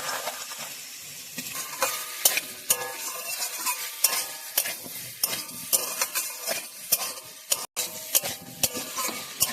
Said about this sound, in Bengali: ভালো করে মশলার সঙ্গে এইভাবে কষিয়ে নেব